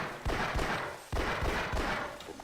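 Gunfire from a gun in a video game: two rapid bursts of reverberant shots, each a quick cluster of several cracks, moderately loud with a short gap between them.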